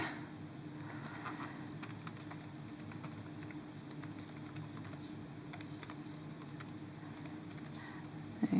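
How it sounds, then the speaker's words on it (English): A password being typed on a computer keyboard, with quiet, irregular key taps over a low steady room hum, faint and close, with no one talking. "Okay, I'm putting my password."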